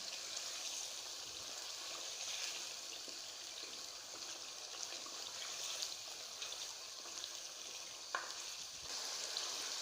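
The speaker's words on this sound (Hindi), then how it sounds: "आलू शामिल करने के बाद जो है वो अच्छे से भूनना है" Potatoes frying with beef in a pot for aloo gosht, a steady quiet sizzle with occasional soft stirring clinks, continuous and close throughout.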